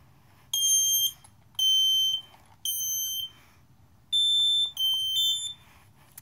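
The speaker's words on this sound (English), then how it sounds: "All right, they both tripped each other." Two hardwired 120-volt interconnected smoke alarms, each triggering the other, shrill in two bursts of three beeps, with pauses between them and a low background hum underneath.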